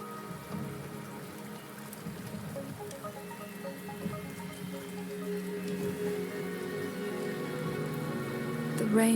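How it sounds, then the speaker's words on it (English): Steady rain falls in a video game, a dense, even hiss that runs unbroken throughout and swells slightly louder near the end, with soft tonal layers beneath. "The rain is subsiding,"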